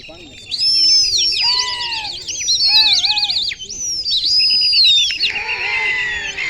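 Pigeons fill the air with warbling calls, chirps and high whistling notes that rise and fall in overlapping bursts, loud and nearby.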